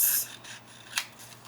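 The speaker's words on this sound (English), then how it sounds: "just going to trim the white off around it" Scissors trimming the white border off a printed photo: a few quiet snips and paper rustles, with one sharper cut standing out near the middle.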